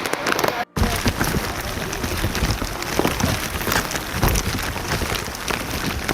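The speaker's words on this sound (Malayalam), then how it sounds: "മഴയുണ്ട്." Steady rain pours during a motorcycle ride toward Panchalimedu near Kuttikkanam in Kerala, a dense continuous wash of drops and wind noise, loud and close throughout with one brief dropout near the start.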